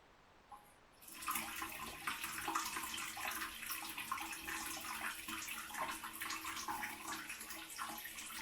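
Beer wort being poured back into the boil kettle while brewing a SMaSH beer: a steady, close rush of splashing liquid begins after a second of quiet and flows continuously at an even level.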